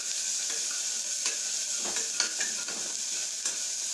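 Ginger garlic paste and onion sizzle steadily in a cooker for ghee rice, with a constant bright frying hiss and the soft scrapes and knocks of stirring scattered through it. No one speaks.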